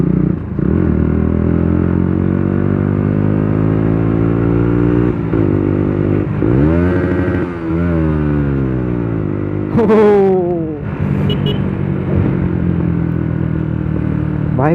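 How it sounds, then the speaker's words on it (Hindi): Motorcycle fitted with a modified Akrapovic aftermarket exhaust, heard up close and loud, with repeated rising revs and throttle blips over a steady idle-to-midrange engine drone, plus a sharp crackle near the end. "कितना भयंकर साउंड निकलता है ना इस एक्रोपोवी एग्जॉस्ट से"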